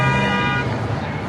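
A car horn honks on a snowy New York City street, one sustained toot standing out over traffic and city noise, followed by ongoing street ambience.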